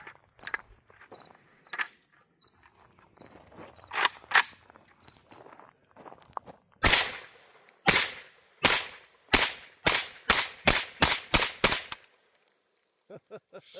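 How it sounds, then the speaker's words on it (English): Rapid fire from a Zastava AK-47 rifle with factory ammo into dirt: about ten loud, sharp shots in a quickening string, preceded by scattered fainter cracks and handling noises. "Prepper's going to go ahead and do a rapid fire on a few right into the dirt over there"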